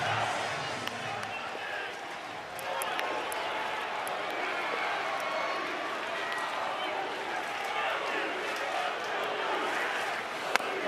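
Oklahoma Sooners fans cheer at a College World Series finals baseball game against North Carolina, a steady roar of crowd noise with scattered claps and shouts that fills the whole stretch under a commentator's voice.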